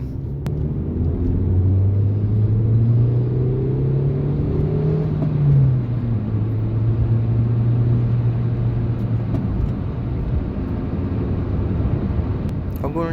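A Toyota Yaris 1.0 VVT-i four-cylinder engine accelerates through a long pull, its drone rising in pitch, easing off briefly, then fading out near the end.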